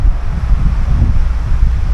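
Strong wind buffets the microphone outdoors in a steady, loud roar with gusting rumble throughout, no voices present.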